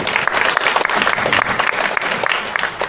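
Loud, dense applause from the crowd at a volunteer appreciation event, many people clapping together in a steady roar throughout.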